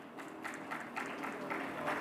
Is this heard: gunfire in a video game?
no